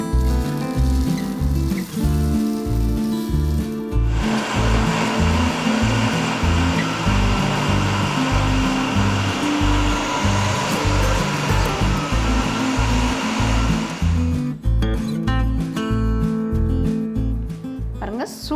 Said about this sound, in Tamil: இப்போ இதில் போட்டு நம்ம நல்லா பொடி பண்ணி எடுத்துக்கலாம்.